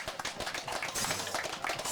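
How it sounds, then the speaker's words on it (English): An audience at a Marcus Garvey Day gathering in 2011 applauds, producing a dense, continuous wash of clapping that stays fairly even throughout. "I give a round of applause up."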